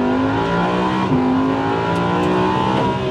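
A heavy race car weighing about one and a half tonnes accelerates on a circuit, its engine droning loudly and steadily with harmonic tones shifting as it climbs through the revs, close and continuous with no talk.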